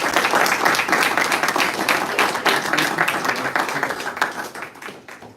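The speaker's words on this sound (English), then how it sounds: "Let's give these young ladies a round of applause" An audience applauds the young ladies at a Vigo County school event, with dense, sustained clapping filling the room before it thins and fades out at the end.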